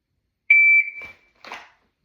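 A shot timer gives one sharp, loud electronic beep during dry fire practice, followed by a couple of brief soft clicks or movement sounds in an otherwise quiet room.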